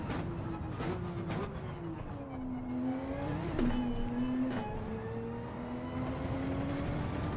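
A Toyota GR3 race car in a racing game drones with a steady engine note that rises and dips through gear changes, with sharp shift blips, close and continuous.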